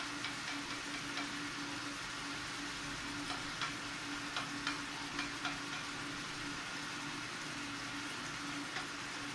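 Meat frying in a pan for a lasagna sauce, a faint, steady hiss with soft intermittent crackles and a low background hum throughout.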